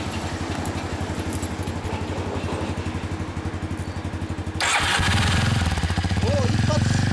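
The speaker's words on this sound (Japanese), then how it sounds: "エンジンを聞かせてもらえるかな" A small Yamaha Tricker or Kawasaki Super Sherpa dual-sport motorcycle engine, from 2000 or later, cranks, catches, and starts running with a louder, rougher idle; some voices are faintly heard nearby.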